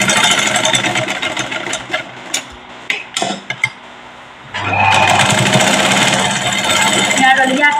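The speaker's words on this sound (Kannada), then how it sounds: "ಎರಡು ಹೊಲಿಗೆ ಹಾಕ್ರಿ." A sewing machine stitches the shoulder seam of a plain blouse, running in steady loud bursts with a brief pause in the middle, then a long continuous run; a faint voice is heard in the background.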